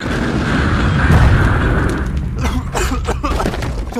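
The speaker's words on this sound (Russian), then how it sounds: "Взрывы!" Cartoon explosions, a loud, dense booming rumble that swells and then breaks into a few sharper bursts and crackles, no speech over it.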